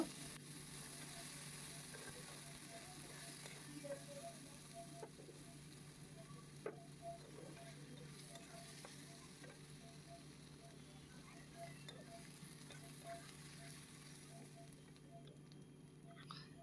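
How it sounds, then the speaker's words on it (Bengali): Quiet, continuous sizzle of onions frying until browned in a pan, with occasional small ticks and scrapes of stirring throughout. "ভালো করে পেঁয়াজটাকে লাল লাল করে ভেজে নেবো"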